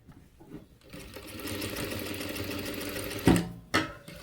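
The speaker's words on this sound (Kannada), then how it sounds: "ಸಮವಾಗಿ ಈ ರೀತಿ ಸ್ಟಿಚ್ ಹಾಕಿ ನೋಡಿ" A sewing machine runs steadily, stitching a work blouse in a close, continuous whir that starts after a short pause and ends with two abrupt clunks as it stops.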